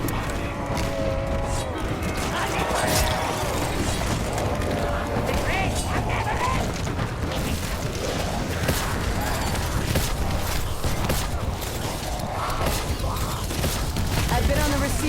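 Dense, continuous battle noise from Call of Duty: Black Ops 4, with gunfire bursts, clattering mechanisms and booming explosions layered thickly at steady high loudness, voices mixed in throughout.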